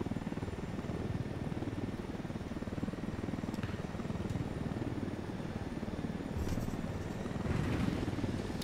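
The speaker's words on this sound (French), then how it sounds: "Là, il y a un hélicoptère de combat dans la base." A steady low combat helicopter drone in Ghost Recon Wildlands thrums throughout at moderate distance, with a couple of faint clicks and a brief swell near the end.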